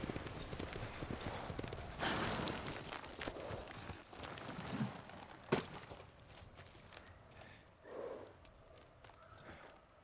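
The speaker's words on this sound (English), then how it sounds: "Yuriko's horse. She can't be far." Horse hooves clip-clop in an uneven walking rhythm in the video game Ghost of Tsushima, fairly close, with occasional sharper knocks and no talking.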